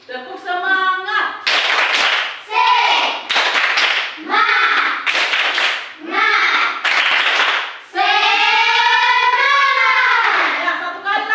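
Rhythmic group clapping in a classroom: bursts of sharp, loud claps in a repeated pattern alternate with voices chanting together, close and lively throughout.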